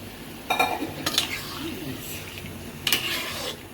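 A spoon scrapes and clinks against a pan while dried fish vegetable curry fries, with several sharp metallic knocks over a low sizzle and quiet background murmur.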